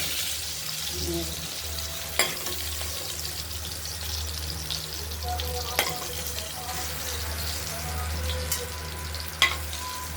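Pieces of pointed gourd fry in oil with a continuous bubbling hiss over a low hum, broken every few seconds by a sharp spatula tick.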